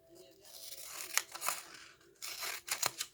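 Scissors snip through the protective cover film of a diamond painting canvas in quick crisp cuts, close and fairly quiet, with a short pause between two bursts of cutting.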